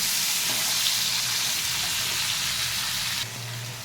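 Spices and salt frying in a hot pan give a steady, loud sizzle that holds throughout, with a slight shift in tone near the end as they are stirred.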